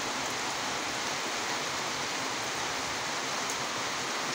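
Steady rain pours down over a village on a rainy day, a dense even hiss filling the whole stretch with no pauses and no talk.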